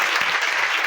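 A church congregation bursts into dense, sustained applause, loud and close, filling the whole short stretch without a break.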